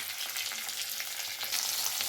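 Steady, close sizzling of tomatoes frying in a pan, a continuous crackling hiss with no voices.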